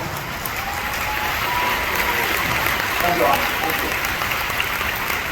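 An audience at a D23 Expo stage presentation gives dense, loud applause that holds steady throughout, with crowd noise and scattered voices mixed into the clapping.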